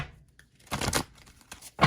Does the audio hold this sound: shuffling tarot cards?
yes